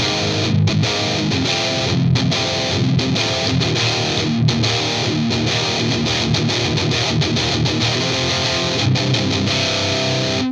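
A loud, heavily distorted electric guitar, using a tone from STL Tones Tonality, chugs out a driving rhythm with palm-muted stops and crunchy sustained chords, playing alone without other instruments.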